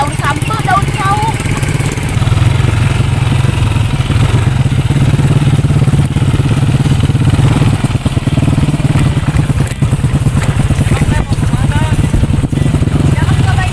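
Motorcycle riding along a village road, its engine droning loudly and steadily with mechanical clatter while people talk over it throughout.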